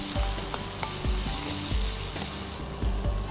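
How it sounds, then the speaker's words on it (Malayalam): Chicken sizzles steadily in a hot pan, with repeated stirring scrapes and clacks over the constant fry hiss, close and fairly loud with no talking. "ഇപ്പോൾ ഓൾറെഡി നമ്മൾ ചിക്കൻ വറുത്ത് പൊരിച്ചെടുക്കുകയാണ്."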